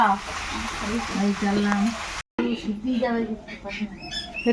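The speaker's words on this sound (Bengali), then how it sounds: "মাংস কষানো চলছে" Duck meat sizzles and fries in oil nearby while people talk over it, with a brief dropout midway.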